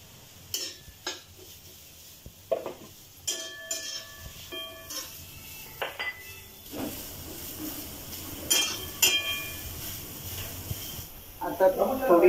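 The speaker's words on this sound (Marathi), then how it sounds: "नंतर त्यात कांदा टाकायचा" Sliced onions going into a pan for vajri masala: a scattered series of sharp metal clinks and scrapes of a utensil against cookware, then a soft hiss of frying at the end.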